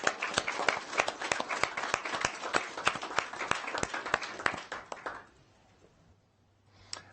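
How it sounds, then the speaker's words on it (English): School board trustees and attendees at a regular board meeting clap for about five seconds in distinct, sharp individual claps, then fade into quiet room tone with a final soft sound. "I'm in a clapping mood"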